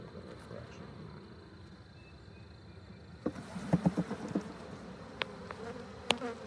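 Honeybees buzz in a steady drone as a hive frame is shaken during a swarm inspection, with a burst of sharper thumps and louder buzzing partway through, close by.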